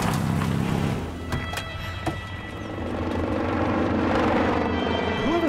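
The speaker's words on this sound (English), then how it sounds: "Whoever's piloting that helicopter must not be very good at their job." A helicopter flies in the video game As Dusk Falls, its steady rotor and engine drone filling the scene at a constant loud level with a few sharp knocks over the top.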